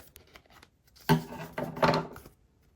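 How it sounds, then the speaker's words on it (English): Scissors cutting away excess paper during Christmas papercraft, a few close crisp snips and rustles of the paper as it is trimmed and handled, with no talking. "I'm just going to take those scissors and cut off any excess."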